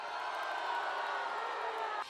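Raucous crowd at a political convention, a steady roar of many voices with scattered whoops and shouts, fairly distant, washing on for a couple of seconds.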